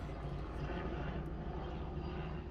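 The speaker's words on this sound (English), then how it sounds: "helicopter overhead. That's annoying." A helicopter drones steadily overhead, a continuous low engine rumble that holds at an even loudness throughout.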